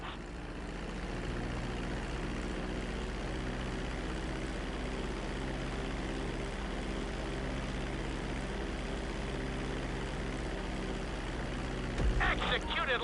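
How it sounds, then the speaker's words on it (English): Airplane engine in Grand Theft Auto 5 droning steadily as it descends toward a runway on approach, a constant loud hum with tonal whine throughout, a brief clatter near the end. "reducing the plane's altitude gradually so you're just above the runway as you approach"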